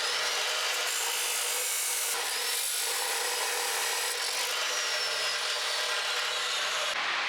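Forged steel bar cut into five pieces for pattern-welded layers, a continuous rasping saw cut that grinds on steadily and loudly, with brief pauses in the stroke.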